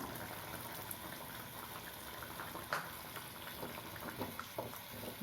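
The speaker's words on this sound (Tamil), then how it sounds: "ஒரு நிமிஷம் கொதிக்கட்டும்" Sambar with tamarind water bubbles and simmers steadily in a pot, low and continuous, with a few soft pops and clinks, moderately quiet.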